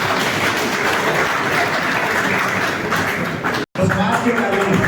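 A large crowd at a political gathering applauds loudly and continuously, dense clapping filling the air; there is a brief dropout near the end, then the clapping resumes, with voices mixed in.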